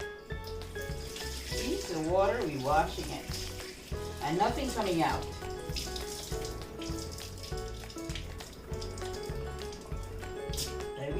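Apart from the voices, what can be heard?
water rinsing rice in a pot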